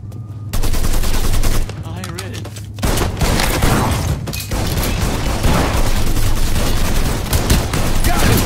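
Loud, dense gunfire from a Mafia 3 final boss fight, rapid bursts and sustained automatic fire layered with booms, with game voices faintly underneath.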